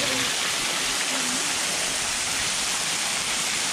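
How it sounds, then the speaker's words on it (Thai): Waterfall pouring at Tat Wiman Thip on Phu Langka, a steady broadband rush of falling water that fills the whole clip, loud and close. "น้ำไหลครับตรงนี้"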